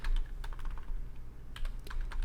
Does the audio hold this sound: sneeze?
no